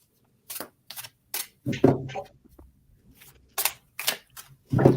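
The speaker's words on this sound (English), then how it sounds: "I'm going to shuffle the deck for the collective now." Quick bursts of papery riffling and flicking, like cards being shuffled close by, coming in short separate runs with small gaps between them.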